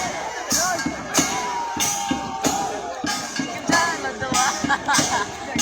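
Large crowd of villagers gathered at a traditional boat race in Islampur village, Khamarchak Union, a dense outdoor hubbub of many overlapping voices with rhythmic bursts of cheering, steady and fairly near throughout.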